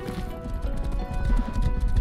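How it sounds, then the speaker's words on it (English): Horse hooves clip-clopping in the survival game Rust, a quick, close run of hoofbeats at a steady trotting rhythm, loud and clear with little else around. "A horse!"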